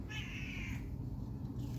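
A cat gives one short, clear meow over a steady low background rumble.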